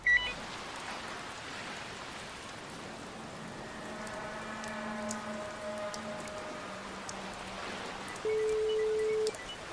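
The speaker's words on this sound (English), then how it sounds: "why the hell can we hear his phone ring?" A phone rings from inside a dumpster in a point-and-click video game, a faint repeated electronic ring tone over quiet ambient hiss, ending with a steady beep.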